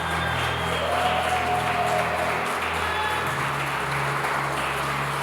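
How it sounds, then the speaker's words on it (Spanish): A church congregation applauds during a sermon, a steady dense wash of clapping that holds at an even level from start to finish, with a faint tone running underneath. "Alguien tiene que tributarle un aplauso de gloria"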